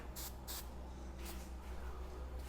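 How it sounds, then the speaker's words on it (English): Hairspray from an aerosol can sprayed into a rubber ODI bike grip, heard as two short hissing bursts close together near the start and a fainter third puff, over steady low background hum. "Alright, so we got some hairspray."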